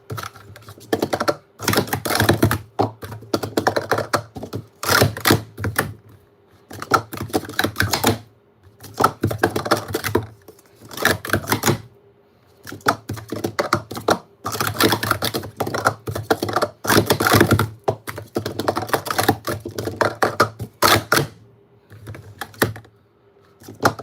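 Rapid typing on a computer keyboard that costs about a hundred dollars, loud and close, coming in dense bursts separated by short pauses.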